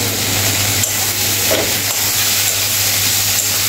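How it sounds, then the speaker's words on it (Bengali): Vegetables with salt and slit green chillies sizzling and being stirred in a pan, a steady, close frying hiss with faint scraping, no talk. "ভালো করে নাড়াচাড়া করে সবজিগুলো সুন্দরভাবে কষিয়ে নেব।"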